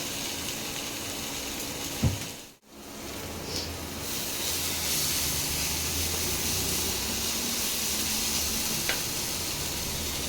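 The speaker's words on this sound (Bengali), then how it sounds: "একটু তেলে ভাজা ভাজা হোক" Spiced chicken frying in oil gives a steady, close sizzle that runs the whole time, broken by a brief clunk and a short dip in the hiss near the start.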